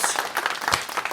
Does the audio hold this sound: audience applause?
yes